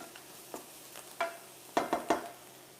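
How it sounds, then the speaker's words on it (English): Bacon frying in a pan, with faint sizzling under a few distinct crackles and pops that cluster toward the end, heard close and alone. "Let me just keep my bacon cooking. Oh, it's sizzling away beautifully here."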